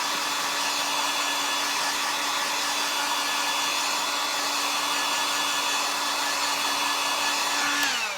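A hair dryer or heat tool blows hot air steadily over wet cardboard during a spring carrot craft, a loud continuous whoosh with a faint motor whine that runs unbroken for the whole stretch before cutting off near the end.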